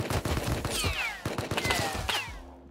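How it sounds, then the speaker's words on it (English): Enemy gunfire aimed at the player in a shooter game, sharp repeated shots in an irregular series, fairly close and loud, mixed with whizzing streaks and other game sounds. "I'm being shot at by somebody else"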